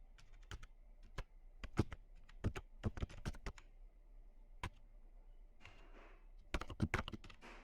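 Fingers type an email address and password on a computer keyboard, a quiet, close burst of crisp key clicks in quick irregular runs with short pauses between.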